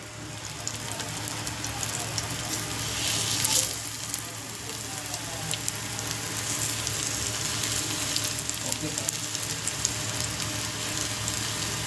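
Coated pomfret fish frying in hot oil on a large pan gives a continuous, even sizzle with crackling spatters, briefly louder at one point and otherwise steady and close throughout.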